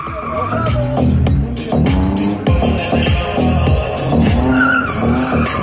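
Tires squeal and skid repeatedly as a car swerves hard through tight turns in a slalom competition, its engine revving loudly between bursts of screeching.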